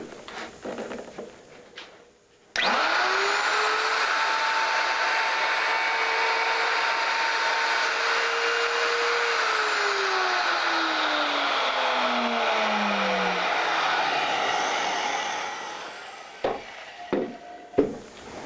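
A router spins up abruptly and cuts a mortise for a guitar neck joint, a loud sustained whine that slowly dips in pitch under load, then winds down, followed by a few knocks and clatters.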